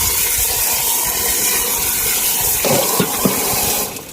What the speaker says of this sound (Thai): ล้างมะนาวก่อนครับผม น้ำใสเลยครับ